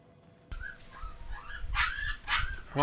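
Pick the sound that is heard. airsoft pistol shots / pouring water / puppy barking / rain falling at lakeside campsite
puppy barking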